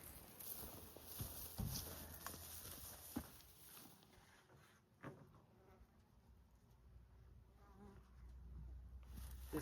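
Honey bees swarm around an opened hive during a honey harvest, a faint, steady buzzing hum with scattered close wingbeats and a few soft knocks and handling sounds.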